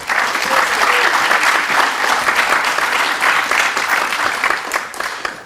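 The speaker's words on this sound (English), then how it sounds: "Let's give a big round of applause for Robyn Haddow." A design-talk audience in Toronto breaks into sustained applause, a thick, even roar of many hands clapping at full strength for the whole stretch.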